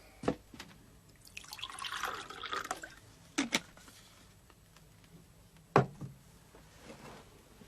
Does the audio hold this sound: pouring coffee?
yes